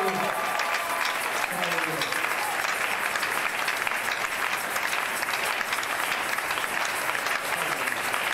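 A church congregation applauding in a dense, steady wash of clapping that lasts the whole stretch, fairly close and full, with a voice speaking briefly near the start.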